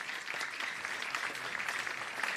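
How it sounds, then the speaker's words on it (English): Spectators at a Somerset versus Northamptonshire county cricket match in Taunton clap for bowler Casey Aldridge after he takes a wicket. The light, scattered applause of a modest crowd carries steadily from a distance. "Applause for Casey Aldridge, well deserved, having taken the wicket in the over."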